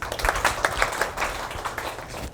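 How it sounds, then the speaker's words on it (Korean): An audience at a Gangnam startup hub forum on food technology claps for a speaker after a presentation, a steady run of sharp, scattered claps that carries on alone for a couple of seconds. "뜨거운 열정으로 발표해주신 김용희 수석센터장님께 다시 한번 박수 부탁드리겠습니다"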